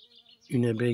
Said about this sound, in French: Les abeilles adorent la bourrache.